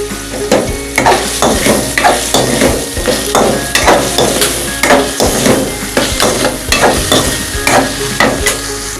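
A spoon stirs soy sauce, vinegar and chili sauce in a hot frying pan for chicken macaroni, loud rhythmic scraping strokes repeating about every half second over a steady sizzle.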